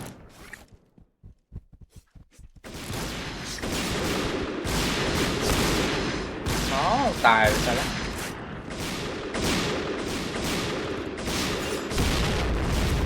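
Gunfire in the online shooter Point Blank, with sniper rifles such as the Kar98K, DSR-1 and SSG-69: a few sharp cracks at the start, then dense overlapping shots and blasts that continue to the end while a player talks.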